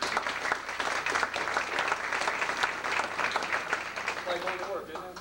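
Audience at an Amway meeting clapping steadily and fairly close for a newly introduced distributor, sustained applause that fades slightly at the end under a brief voice.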